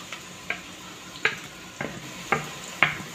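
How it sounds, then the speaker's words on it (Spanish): Grated carrot fries in a pan with onion, garlic and paprika under a soft, steady sizzle, broken by five sharp scraping stir strokes of a utensil against the pan at roughly half-second intervals. "le vamos a echar la zanahoria que está rallada."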